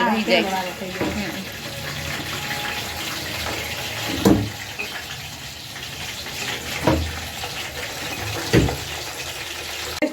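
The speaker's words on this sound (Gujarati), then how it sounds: "પછી તેલમાં વઘારી એટલે આમ" Steady sizzling hiss of boiled vegetables for undhiyu tempering in hot oil with ginger, chilli and garlic, with a few sharp clinks and stirring knocks scattered through.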